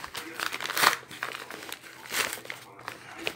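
A paper envelope is torn open and handled close by, giving quiet crinkling and tearing bursts in short irregular spurts with soft rustles between them.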